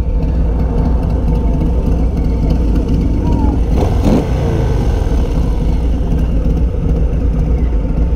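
A 2022 Harley-Davidson Low Rider S motorcycle being ridden, with a loud, steady engine drone and heavy wind rush throughout.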